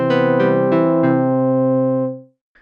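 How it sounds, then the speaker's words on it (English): A Polymer synth preset plays four quick notes in a row, then holds a bright sustained tone for about two seconds before fading to silence. "So over here, I've got a polymer instrument loaded up and it sounds like this."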